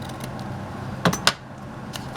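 Scissors snipping through a paper envelope during a craft project, two short crisp cuts close together near the middle, quiet and close with faint background between.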